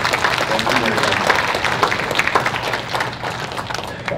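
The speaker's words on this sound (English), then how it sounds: "So can we give Dr. Lochow a round of applause?" Applause rises from an audience at an Ontario education gathering for a doctor, a dense, steady wash of many hands clapping at close-to-mid distance for several seconds with no break.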